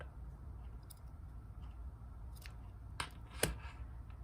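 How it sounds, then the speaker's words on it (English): Scissors snip off the cord ends of a macrame owl bracelet, with several quiet, crisp cuts spaced apart and two louder snips near the end, close and clear over faint room noise. "all we need to do is snip this off short"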